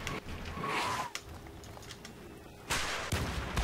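Rocket launcher fire and explosions in Battlefield 3, sharp booming blasts at the start and again near the end, separated by a quieter stretch of rumbling battlefield noise.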